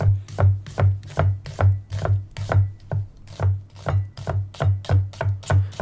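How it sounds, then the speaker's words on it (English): Close, crisp knife strokes chop through an onion on a board in a steady rhythm of about two cuts per second, each with a dull thud and a brief crunch, no voice. "We are chopping this onion like it's never been chopped before"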